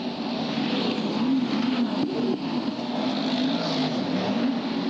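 Stock cars racing at Bradford in 1994, a continuous loud roar of engines with a droning, wavering pitch as cars circle the track.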